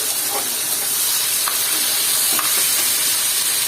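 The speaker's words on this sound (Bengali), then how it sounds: "চিংড়ি মাছটা অনেক সুন্দর করে পেঁয়াজের সাথে ভেজে নিচ্ছি" A loud, steady sizzle of prawns frying with onions in a pan, with a few faint scrapes of stirring.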